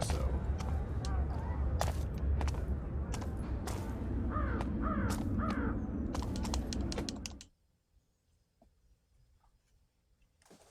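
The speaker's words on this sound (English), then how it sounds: "I hear the call of the crows." Crows in the Thief video game caw several times over a busy layer of clicking and tapping noise. Then everything drops abruptly to near silence.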